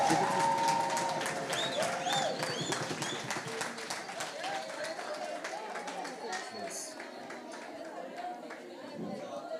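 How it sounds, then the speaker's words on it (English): An audience at an eKasi entrepreneurs' contest in Motherwell claps for a contestant, a dense patter of hands with scattered chatter and voices talking over it, fading slightly toward the end. "Let's give Roland a big round of applause"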